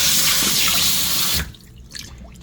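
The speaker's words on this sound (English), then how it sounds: "And then we will fill the sink with water again." Tap water pours loudly and steadily into a kitchen sink for washing bok choy, a close, even rush that cuts off abruptly partway through, leaving faint room noise.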